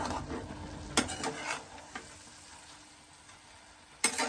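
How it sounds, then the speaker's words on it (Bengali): A spatula stirs Malabar spinach frying in a pan under a soft sizzle, with sharp scrapes near one second and four seconds and smaller clatters in between. "এবার আমি খুন্তি দিয়ে পুঁই শাকটা নাড়াচাড়া করব।"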